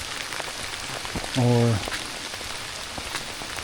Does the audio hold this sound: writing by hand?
no